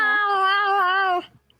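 A single drawn-out cat-like meow lasting about a second, steady and clear at close range, then fading to silence; it may be a human voice imitating a cat.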